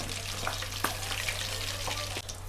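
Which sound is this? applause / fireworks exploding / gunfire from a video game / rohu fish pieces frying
rohu fish pieces frying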